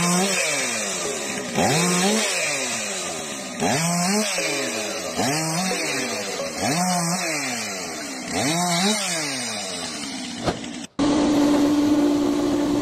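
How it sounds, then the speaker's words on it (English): A chainsaw mounted on a dedicated log-cutting stand saws logs into equal sections. The engine revs up and drops in a steady rhythm over about six cuts, loud and close, then cuts off. "A dedicated chainsaw stand speeds up cutting logs into equal sections and improves operator safety."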